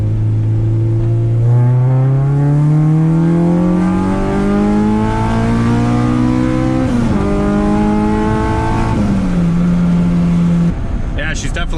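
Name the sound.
K24-swapped Acura Integra accelerating hard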